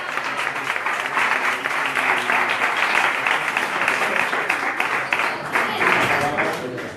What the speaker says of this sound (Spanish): Ruego un aplauso.